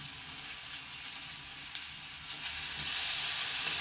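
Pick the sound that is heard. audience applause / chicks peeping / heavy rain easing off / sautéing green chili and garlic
sautéing green chili and garlic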